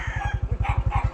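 Chickens and a rooster on a farm in Mabuli, Tabogon, give loud, close cackling and crowing calls over a rapid, throbbing low pulse of a running engine that continues steadily underneath.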